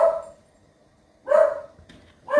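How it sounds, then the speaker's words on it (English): Dogs bark through an open front door and open windows at other dogs outside, giving three short, loud, close barks spaced about a second apart with quiet gaps between them. "now they can bark at all the other dogs"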